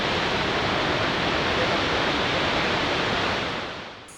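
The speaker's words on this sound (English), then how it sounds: "The waterfall is flowing between a gorge." Murchison Falls in Uganda pours through a narrow gorge with a steady, dense roar of falling water, loud and unbroken throughout before easing slightly at the very end.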